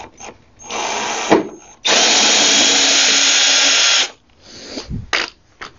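A cordless power drill backs screws out of a wooden gate leg table, with short whirring bursts followed by one long sustained run, close and loud, and a few clicks and handling knocks between.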